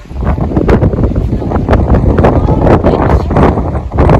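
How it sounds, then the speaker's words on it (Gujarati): Strong wind at Narayan Sarovar in Kutch buffets the microphone in a loud, continuous rumbling roar with gusty surges throughout. "અત્યારે એટલો પવન છે કે તમે જોઈ શકો છો અવાજ આવતો જ હશે વિડીયોમાં"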